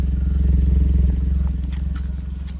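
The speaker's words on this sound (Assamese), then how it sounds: "গাড়ী ইঞ্জিন ষ্টাৰ্ট হৈ আছে" An idling Maruti Alto engine runs close by with a steady low, pulsing throb that stays even throughout, with faint ticks and rattles above it.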